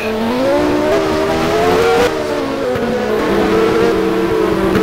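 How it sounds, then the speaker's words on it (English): Formula 1 race car from an F1 19 game with a 1990 mod, slowing into the pits at Monaco: a loud, steady, high-pitched engine drone with falling and shifting tones, continuous and close. "The race leader is entering the pit now"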